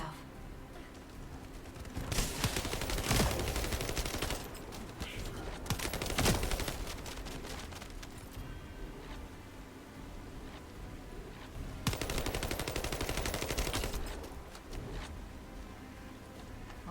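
Rapid automatic gunfire from the video game The First Descendant comes in several sustained bursts over a continuous background of game ambience, with quieter stretches between the volleys.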